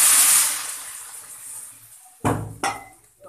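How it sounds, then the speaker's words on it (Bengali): Hot water poured into a Bengali papaya and soybean curry makes a hissing, splashing rush that fades away, followed by two sharp clanks of a utensil or pot. "গরম জলটা দিয়ে দেবো।"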